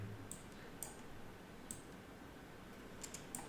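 A computer mouse clicking during editing in Illustrator, a handful of faint, sharp single and double clicks spaced irregularly over a quiet room background.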